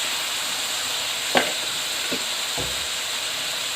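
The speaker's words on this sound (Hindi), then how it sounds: "कीमे को मैंने थोड़ा सा फ्राई कर लिया ऑयल के अंदर, प्याज और ऑयल के साथ।" Beef mince with onion and ginger-garlic paste frying in oil, a steady loud close sizzle and hiss broken by a few soft stirring scrapes, with no talking.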